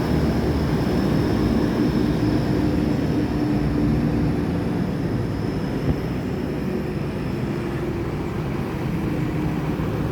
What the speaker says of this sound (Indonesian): Ini Sinar Jaya Jet Bus 3 berangkat menuju Jakarta, berangkat pagi dari Terminal Palembang.